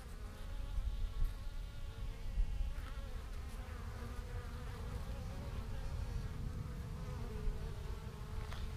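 Honeybees busy at the entrance of a small nucleus hive, bringing in pollen, make a continuous close buzzing hum with individual bees droning past now and then.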